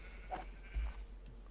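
A sheep bleats in Minecraft, a short nasal blocky-game bleat near the start, followed by a fainter second call against a low steady hum.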